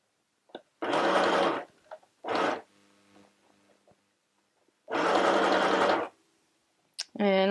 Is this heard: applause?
no